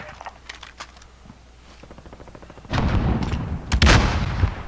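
Video game gunfire crackles in a dense burst of close, loud shots, with lighter rapid clicking beforehand that swells into sustained heavy firing with sharp peaks.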